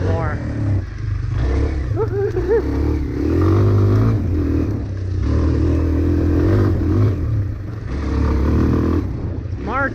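A Kawasaki KLX 230 dirt bike engine with a high idle, running close by on half-thawed ground in March in Minnesota, rising and falling through several revs over ten seconds with a steady clattery drone underneath.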